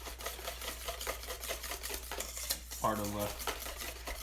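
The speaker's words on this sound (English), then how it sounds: "Just make sure you whisk this in there well, so you can get that sugar to actually dissolve" A whisk stirs sugar into oil for aioli, making rapid rhythmic clinking and scraping against a bowl, close and steady, with a brief spoken word partway through.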